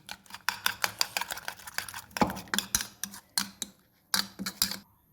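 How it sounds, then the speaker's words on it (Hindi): A fork or whisk rapidly beats eggs with onion in a bowl, making quick, close clinking taps against the bowl in steady bursts with a brief pause, and no talking over it. "अब हम इसको अच्छे तरीके से बीट कर लेंगे"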